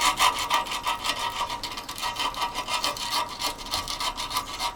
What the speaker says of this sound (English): Just get a bit of sandpaper,